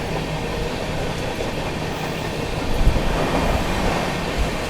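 Steady rumble and rattle of the Chennai Express, train 22159, running past ICF station, heard from on board, a continuous loud wheel-on-rail roar with a few heavier clunks and no talk.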